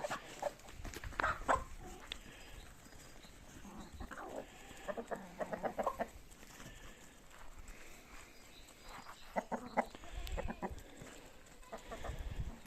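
Chickens cluck and squawk in bursts around a farmyard, with a rooster among them and scattered rustling and thumps in between, after a hawk attack on a hen.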